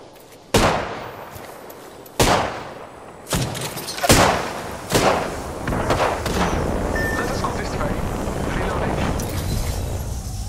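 Gunfire in Apex Legends: several heavy, booming single shots spaced a second or so apart, each with a trailing echo, giving way to a steady din of distant fighting.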